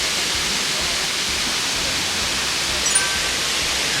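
A waterfall on Jeju Island roars as a broad, steady rush of noise, loud and unbroken throughout with no clear voices.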